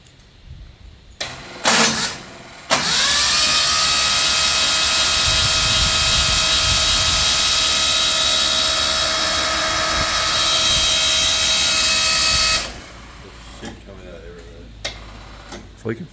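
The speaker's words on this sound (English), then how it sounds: "We're going to give it a little crank now." 1983 Nissan Patrol barn find, its engine cranking over after years in storage: a loud, steady whirring drone of about ten seconds, close by, with brief clunks before and after.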